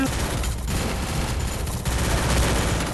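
Rapid bursts of gunfire from a player jump-shooting in a mobile shooter match, dense and continuous with loud crackling shots packed closely over the whole stretch.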